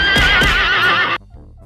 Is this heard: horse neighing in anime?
yes